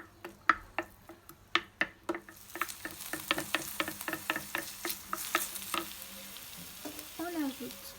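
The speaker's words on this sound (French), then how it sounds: "On met un peu d'huile d'olive. Et on fait revenir nos oignons." Onions frying in olive oil, starting with a few sharp clicks and taps of a utensil, then a steady soft sizzle with scattered stirring scrapes, fairly quiet and close.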